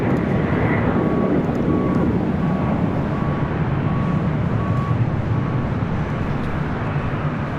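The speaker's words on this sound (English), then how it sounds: "China Southern Cargo 777 freighter lighting up." China Southern Cargo Boeing 777 freighter at LAX spooling up its engines: a continuous heavy rumble with a faint recurring tone, loud and steady with little change.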